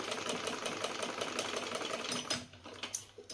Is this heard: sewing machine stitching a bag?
yes